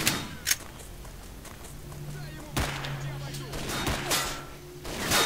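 Gunfire in the video game S.T.A.L.K.E.R.: Shadow of Chernobyl, a few sharp separate shots spread across the stretch, fairly close over low game ambience, with a steady hum running beneath.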